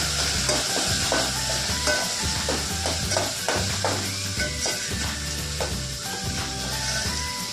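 Gunda sambharo with turmeric and salt stirred in a pan, a spoon scraping and clacking in a steady repeated rhythm over a continuous sizzle, close and fairly loud.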